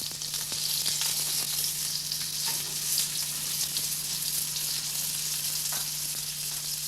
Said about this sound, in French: faites dorer dans une poêle des deux côtés